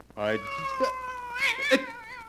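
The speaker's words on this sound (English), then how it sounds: "It's only a black cat." A black cat meows in a long, drawn-out wavering cry with rising and falling pitch, close and clear, with faint voices around it.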